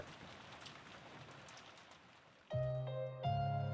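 Soft, steady rain hisses quietly in the Umineko: Legend of the Golden Witch visual novel, then sustained musical tones cut in loudly partway through.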